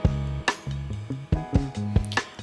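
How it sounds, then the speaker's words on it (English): Programmed drum beat from a duplicated MIDI region with ride cymbal in place of the hi-hat, in an Erykah Badu-style neo-soul beat, heard alongside a sustained bass and keys pattern, steady and mid-tempo with distinct kick and snare hits. "I duplicated exact same drum MIDI region, and I replaced the hi-hat with the right cymbal"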